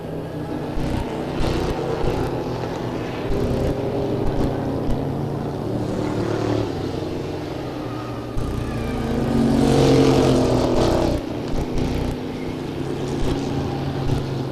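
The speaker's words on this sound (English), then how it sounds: "Your 9 machine, still your leader, Klaus Hermanson" 1993 NASCAR Busch North Series race cars, including a Plymouth Duster, roar steadily around White Mountain Motorsports Park, engines droning continuously with a swelling pass midway, loud and without pause.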